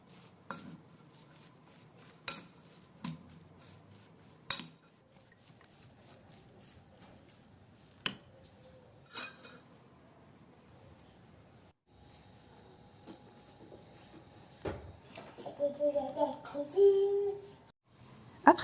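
A spoon clinks and scrapes in a pot as cabbage is stirred with salt, pepper, turmeric and cumin, giving sparse, quiet knocks with faint cooking hiss between them.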